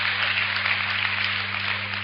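An audience at a poet's recital in Ujjain claps in dense, steady applause that holds evenly throughout, over a low electrical hum.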